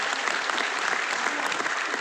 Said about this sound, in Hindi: जोरदार ताली बजाइए भैया